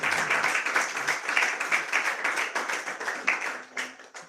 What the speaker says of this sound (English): let's give a big round of applause to all the devotees